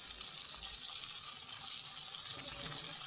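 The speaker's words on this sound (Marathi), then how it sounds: "आणि मग 1 कप पाणी टाकायचं।" Water is poured into a besan mixture for patwadi, giving a faint, steady trickling wash with no break.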